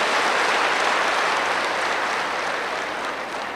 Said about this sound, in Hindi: फिर तो अपने लिए ताली बजा दो भाई